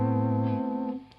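Electric guitar run through a Boss VB-2 vibrato pedal with every knob set at the midpoint: a single sustained chord ringing out with a gentle pitch wobble and slowly decaying, heard alone.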